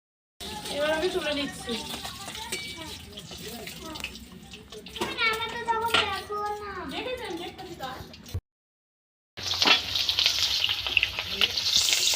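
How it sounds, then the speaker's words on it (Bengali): Eggs fry in hot oil in a pan for a Bengal egg do-pyaza, a continuous crackling sizzle running beneath someone talking, broken by a brief silent gap before the frying resumes louder. "এইভাবে আমি বাকি ডিমগুলো সব ভেজে নেব।"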